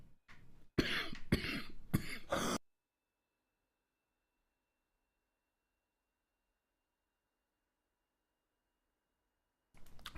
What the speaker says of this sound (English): Sorry, I was coughing tonight.